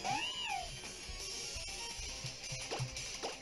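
A cat Pokémon's digitized cry from the video game Pokémon Y, a short rising-and-falling electronic wail near the start, followed by battle sound effects and game music.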